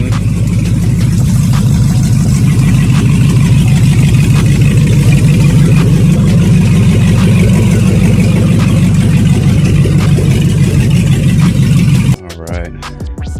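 A warmed-up stock 6.0 Chevrolet Silverado truck engine idles steadily and loudly with a rhythmic low rumble for most of the clip, then cuts to a brief quieter sound at the end.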